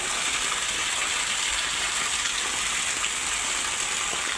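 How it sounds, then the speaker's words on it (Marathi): Steady rain falls in a village setting, a dense, even hiss that stays constant and fairly loud throughout, with no voices. "किती मस्त असा पाऊस आले आमच्या इकडं"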